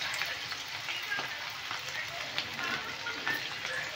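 Vegetables crackle and sizzle steadily in hot oil, a continuous close frying hiss with small pops throughout.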